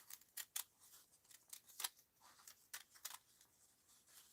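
Scissors cutting a paper doll's body out of paper, quiet close snips in irregular bursts with pauses between cuts, no talking.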